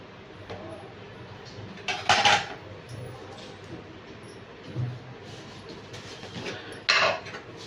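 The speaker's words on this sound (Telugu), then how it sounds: "ఫస్ట్ జీలకర్ర ధనియాలు మెంతులు ఓకే ఇవి మనం కొంచెం మెత్తగా దంచేసుకుందాము" Cumin, coriander and fenugreek seeds are pounded in a stone mortar for a brinjal chutney, with a few separate dull thuds and clacks spaced apart over a quiet kitchen background.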